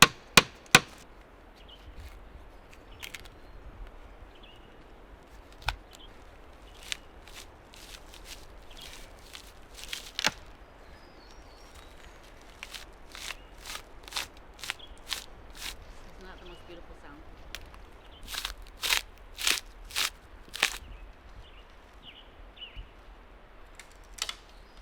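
Cedar bark being cut with a knife and torn into strips from a standing tree outdoors, heard as sparse sharp snaps and rips, some louder and closer, scattered through a quiet background.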